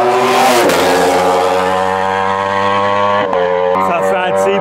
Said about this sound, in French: Les Ducati c'est un bruit rien qu'à eux, hein, t'as beau faire.